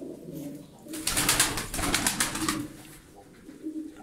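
Close cooing from tumbler pigeons in a Darıca loft, a short burst of rolling throaty coos rising and fading over a quiet background, with a faint wing flutter.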